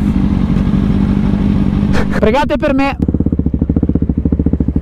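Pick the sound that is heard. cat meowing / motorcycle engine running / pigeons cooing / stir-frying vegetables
motorcycle engine running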